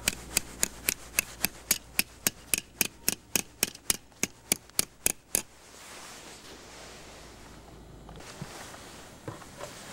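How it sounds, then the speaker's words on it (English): About twenty sharp metallic taps in a steady rhythm as a hammer drives a metal spile into a maple tree, close by, then they stop and only faint outdoor ambience remains. "just tap it in with the hammer"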